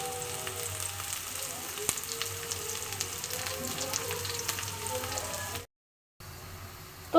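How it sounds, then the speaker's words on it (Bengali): Onion and garlic fry in oil over a raised flame, giving an even, close sizzle with small pops. The sound cuts out briefly near the end, then resumes. "ফ্লেমটা আমি একটু বাড়িয়ে দিলাম একদম কমানো ছিল তো এবার এগুলো খুব ভালো মতন ভাজা হবে"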